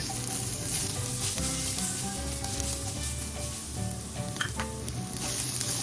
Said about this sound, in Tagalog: Lagay natin yung ating bawang. Magigisa na tayo. Sunod natin sibuyas.